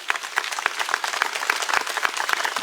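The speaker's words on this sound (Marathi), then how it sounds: "एकदा जोरदार टाळे वाजून अभिनंदन करा राजांचं." A crowd at an outdoor political rally in a Maharashtra village applauds steadily, with many hands clapping in a dense, continuous patter at close range and no speech over it.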